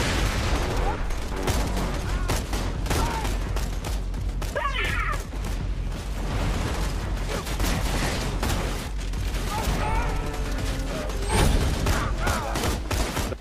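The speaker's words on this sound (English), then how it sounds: "These grenade launchers are weird to use." Grenade launchers firing during Borderlands 2 co-op combat, dense bursts of explosive gunfire and mechanical clatter under a busy, layered soundscape with overlapping shots and booms.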